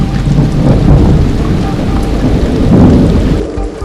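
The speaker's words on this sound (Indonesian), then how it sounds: "Lagi-lagi, hujan turun dengan derasnya." Heavy tropical rain pours steadily near a river crossing in the Binaya mountain area, with low rolling thunder rumbling under the loud, dense hiss.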